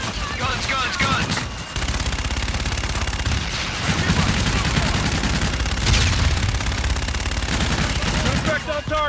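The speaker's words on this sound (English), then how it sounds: "Inbound for gun run. Guns, guns, guns!" Sustained rapid cannon fire from an aircraft gun run in Call of Duty: Infinite Warfare, loud and dense with booming impacts, and radio voices heard over the roar.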